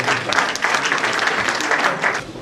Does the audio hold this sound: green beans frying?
no